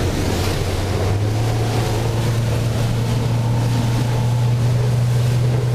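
A motorboat's outboard engine, trimmed up and planing at around 15 knots on open water, drones loud and steady. Constant wind and spray noise fill the background, and no one speaks.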